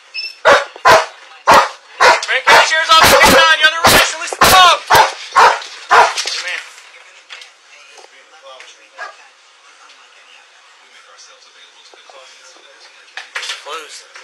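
Police K-9 dog barking loudly in a rapid series of close, sharp barks for several seconds, then quieting as a handler's voice and background noise continue at a lower level.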